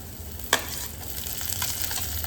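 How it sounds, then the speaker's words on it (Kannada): Tomato and capsicum frying in a pan for an egg masala, a soft steady sizzle with a brief sharp clink of a utensil early on. "ಟೊಮೆಟೊ ಕ್ಯಾಪ್ಸಿಕಮ್ಮು ಫ್ರೈ ಮಾಡ್ಕೊಬೇಕು"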